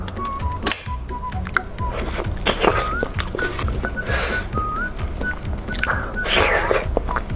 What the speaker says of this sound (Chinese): 我来把这个奶酪棒吃掉